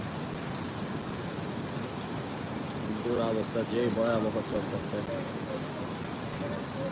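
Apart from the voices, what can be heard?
heavy rain on beach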